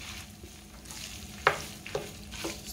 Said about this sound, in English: Stir your cream cheese in there.